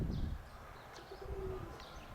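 Soft, low pigeon cooing comes from nearby in a quiet setting, with a faint chirp or two.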